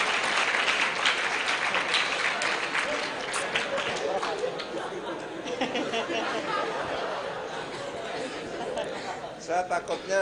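Applause from a student audience at an Islamic boarding school public lecture in Kediri, a dense steady clatter of clapping mixed with crowd chatter that thins slightly toward the end.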